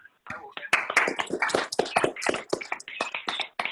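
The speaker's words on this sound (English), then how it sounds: "Let's give ourselves a round of applause" Scattered hand claps from a few online meeting participants at the close of a session, uneven and patchy rather than a full ovation, mixed with overlapping voices talking.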